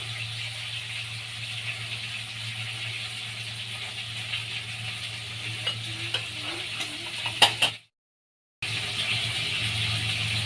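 Tomatoes and peppers fry in a pan for a potato and chicken tagine, with a steady sizzle over a low hum. Light stirring clinks build toward the end, then the sound cuts out briefly before the sizzle returns.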